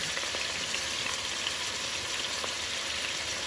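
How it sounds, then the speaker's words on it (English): Oxtails browning in a pan, a steady close hiss of sizzling fat with small pops and crackles throughout, no voices. "I'm not going to overpower the pan. I'm going to let these brown on all sides."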